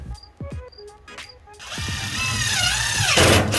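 Soffit screw being driven into sheet metal fascia trim: a few short clicks and taps, then a drill whirring up and grinding steadily as the screw bites in, loud and close, ending in a brief high whine.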